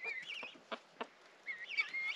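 A young cockerel on a farm gives soft, quiet clucks and short chirping calls close by, with a few brief clucks spaced between higher trilling sounds.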